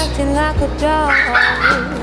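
A dog barks and yips close by in a short burst of high, excited calls, mixed with a whimpering tone and some human voice in the background.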